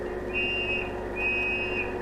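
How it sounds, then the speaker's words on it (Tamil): Two long, shrill police whistle blasts, each held steady for about half a second, sound close and loud over a continuous rumble like a moving lorry. "என்னது விசில் சத்தம் கேக்குது? Police whistle."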